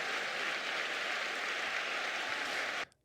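A burst of applause sound effect plays on a podcast: dense, steady crowd clapping at moderate loudness that cuts off abruptly just before the end.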